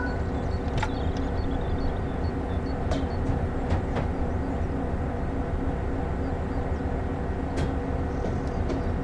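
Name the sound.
locomotive running in video game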